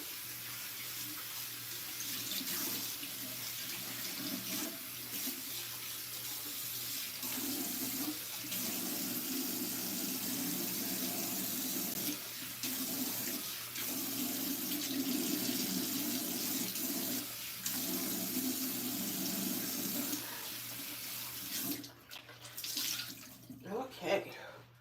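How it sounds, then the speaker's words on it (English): Tap water runs steadily into a sink throughout while a face is rinsed at a bathroom basin during a nighttime skincare routine, with soft splashing and a few brief clattering handling sounds near the end; no one speaks. "So, I'm going to rinse this off"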